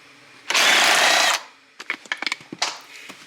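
A power tool loosens a 14 mm bolt on a Lexus IS350 car seat, one loud continuous whir of just under a second up close, followed by a quick run of small metallic clicks and knocks and a brief second burst.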